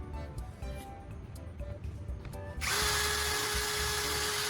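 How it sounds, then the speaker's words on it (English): A spinning sandpaper drum whines steadily, then a pruning shears blade is pressed against it, switching to a loud, bright continuous grinding hiss that holds to the end. "I carefully hold each blade against the spinning sandpaper drum, making sure to maintain a consistent angle."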